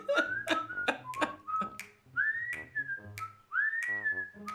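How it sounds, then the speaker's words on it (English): A man standing outside a door whistles the Andy Griffith Show theme, a bouncy tune of short chirpy notes and a few longer swooping ones, clear and close with no talking. "I hear the guy standing outside my door start to whistle"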